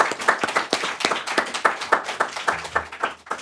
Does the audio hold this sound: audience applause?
yes